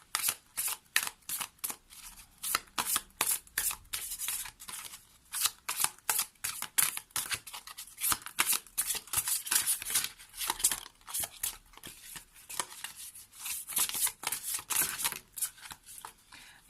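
Oracle cards being shuffled by hand, a rapid run of crisp riffling flicks and slaps repeating steadily for a long stretch, close and fairly loud with no talking.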